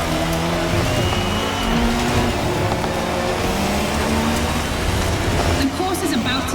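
A car and a motorcycle race side by side in The Crew Motorfest, engines roaring loudly and steadily with rising revs and tire noise, while a voice narrates over the action.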